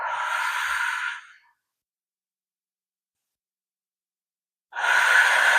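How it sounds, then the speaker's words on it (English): During a yoga stretch, a person breathes close up: a long audible exhale, then a few seconds of silence, then another breath drawn in loudly. "Breathing."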